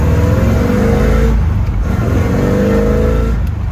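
A 1965 Corvette roars as it accelerates hard, the engine note climbing through revs with a brief dip near a gear change, loud and close throughout.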